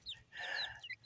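Backyard chickens give a short, close cluck and squawk, a single brief call with a soft peep around it, no talk.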